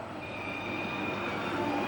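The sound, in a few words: model train set running on track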